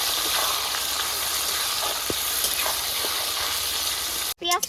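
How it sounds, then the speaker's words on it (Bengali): Onions frying in oil with dried chillies and bay leaves for a chicken dish, giving a loud, constant close-up sizzle with light stirring clicks, then breaking off into a brief voice at the end. "শুকনো লঙ্কা তেজপাতা দেওয়ার পরে এবার এর মধ্যেই পেঁয়াজগুলো ভেজে নেব"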